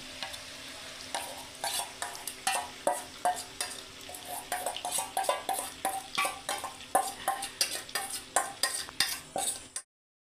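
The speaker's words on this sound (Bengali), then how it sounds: "ততক্ষণ আমি মাংসটা নাড়তে থাকবো।" Mutton being stirred in a wok with a yogurt mixture, a run of regular scraping strokes of a spoon against the pan over a soft sizzle, close and clear, ending abruptly.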